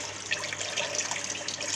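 Hot water runs from a tap into a colour-changing mug, a steady hissing splash, close and continuous throughout.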